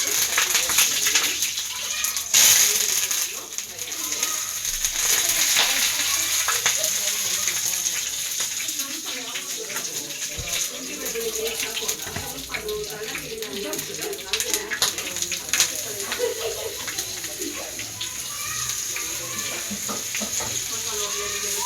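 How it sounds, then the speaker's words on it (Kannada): Fish fries in a home kitchen pan with a continuous crackling sizzle, close by, while people talk intermittently over it and scattered clinks and movements come through. "ಫಿಶ್ ಫ್ರೈ ಮಾಡ್ತಾ ಇದ್ದೀನಿ"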